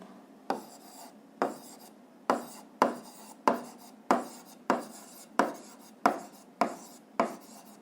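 Pen or chalk strokes write out a physics formula by hand, about a dozen evenly spaced, scratchy strokes, each beginning sharply and trailing off, close and clear with no talk.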